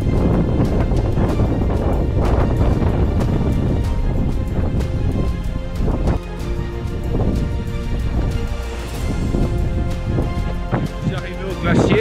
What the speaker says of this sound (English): The higher I went, the stronger the wind blew